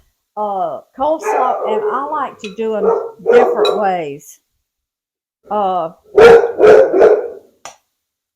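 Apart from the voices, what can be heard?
neighbor's dog barking in the yard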